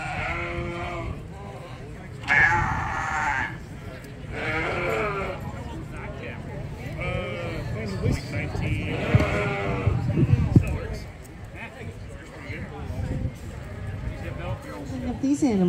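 Sheep bleating on a hillside farm where they graze weeds and bushes, several calls from near and farther off scattered through the scene, mixed with a speaking voice and outdoor rustle.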